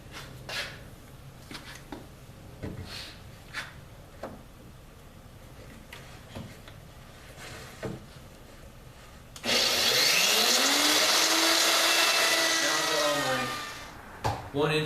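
Router with a bearing-guided pattern bit straightening rough lumber edges against a straight edge for a hexagon game table, a loud, sustained close-up cutting whine starting partway through after quiet knocks and shuffling, then spinning down at the end.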